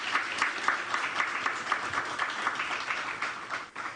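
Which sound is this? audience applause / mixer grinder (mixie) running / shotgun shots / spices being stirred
audience applause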